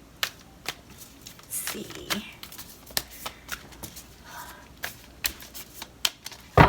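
Oracle guidance cards are shuffled by hand, giving a series of sharp, papery flicks and slaps that come irregularly. Someone speaks briefly over the shuffling.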